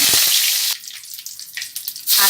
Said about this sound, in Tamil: தாளிக்கிறேன். கடுகு, உளுந்து பருப்பு போட்டு